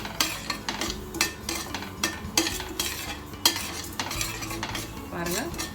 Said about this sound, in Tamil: அதனால் இந்த ரவையை நல்லா வறுத்துக்கணும்.